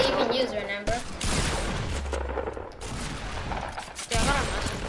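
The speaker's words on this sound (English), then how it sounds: "Bro, stop using mini guns." Rapid sustained minigun fire in the video game Fortnite, a dense continuous burst of gunfire with brief breaks, with a voice talking over it.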